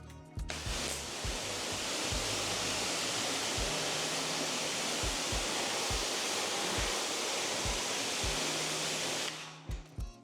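Water sprays over a soapy car during a rinse, a loud steady broadband rush that starts abruptly and cuts off near the end, with low knocks and bumps around it and no speech.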